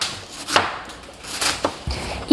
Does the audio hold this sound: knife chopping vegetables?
yes